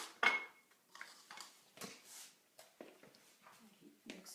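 Pie crust dough being stirred in a mixing bowl, with a spoon scraping and knocking against the bowl in short irregular bursts, close by and fairly quiet.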